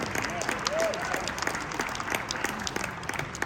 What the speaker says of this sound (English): But how about another round of applause for all of our performers.